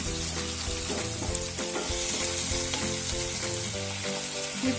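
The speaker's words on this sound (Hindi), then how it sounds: "और अब हम इनको थोड़ा सा भून लेंगे।" Green chilies and ginger-garlic paste sizzle steadily in a pan, frying for a potato curry. The crackle is close and continuous, with occasional stirring scrapes and a faint tonal layer underneath. No one talks.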